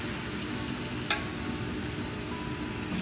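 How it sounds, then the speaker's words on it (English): Pork chops sear untouched in a very hot pan, a constant close sizzle with faint crackles and one small clatter near the middle, no talk. "Now I'm ready to throw these in the pan. You want to wait for it to be super hot."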